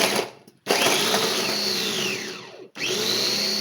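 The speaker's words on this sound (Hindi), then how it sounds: "अब मेरे पास जो है ये इलेक्ट्रिक वाला चॉपर है" Electric chopper whirring through carrots, a loud steady motor drone with pitch sweeps as the load shifts, cutting out briefly twice before restarting.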